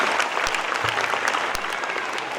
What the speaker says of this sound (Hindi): तो जोरदार तालियों से इनका स्वागत कीजिए।